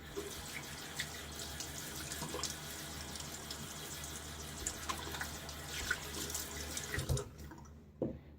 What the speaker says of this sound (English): Rinse it off partially.